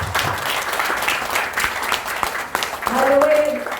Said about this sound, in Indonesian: Tepuk tangan dong untuk siapapun yang sharing.